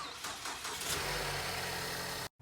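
A Ford Escape engine cranks briefly and catches after a jump start, settling into a steady mid-pitched idle that runs close and loud before cutting off abruptly near the end.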